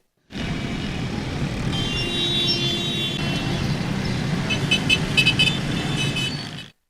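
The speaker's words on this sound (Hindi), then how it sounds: "हारन मारती गाड़ियां और बेहंगम ट्रैफिक है शहर कराची का" Car horns honk over dense, chaotic traffic on MA Jinnah Road in Karachi, where a steady roar of engines fills the street and several short, overlapping toots cluster toward the end.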